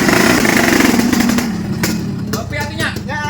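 A motorcycle engine rumbles loudly nearby for the first second and a half, then drops away as voices take over.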